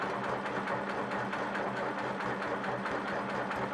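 A sewing machine runs steadily while stitching close parallel matchstick quilting lines on a quilt row, a continuous mid-pitched mechanical whir with a fast, even buzz and no pauses.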